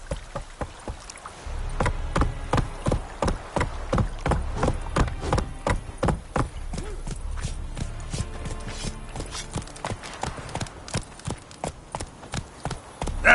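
Roach, the horse in The Witcher 3, gallops with fast, rhythmic hoofbeats thudding close and steady throughout, mixed with creaking tack and light ambient noise.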